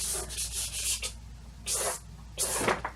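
Soft pastel swept across sandpaper during a landscape painting, producing a series of close, raspy rubbing strokes in quick bursts with short pauses between them.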